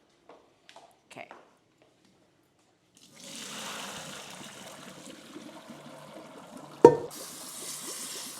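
Water runs steadily from a kitchen sink tap as a pot is rinsed after cooking vegan pho. The flow starts after a few soft clinks and carries on close by with a sharp clatter midway; there is no talk.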